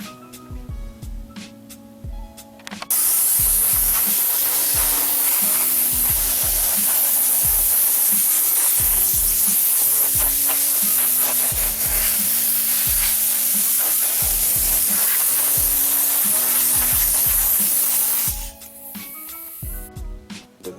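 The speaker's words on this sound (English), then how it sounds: "What I'm finna do now, I'm finna get my blow hose and just blow everything off" A compressed-air blow hose blasts dust off a raw plastic Mercedes-Benz E63 AMG bumper during paint prep, giving one loud, steady hiss of about fifteen seconds with background music underneath.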